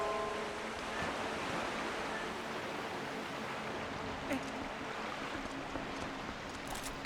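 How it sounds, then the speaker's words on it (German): Steady rushing water flows in Zelda: Twilight Princess HD, a continuous broadband wash that holds evenly throughout with a faint click or two on top and no speech. "Das Wasser fließt in alle Richtungen"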